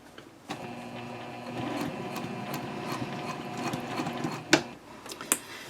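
A sewing machine back-stitches along the top edge of a tote bag at a 2.5 stitch length, a steady close whirring run with a few sharp clicks near the end.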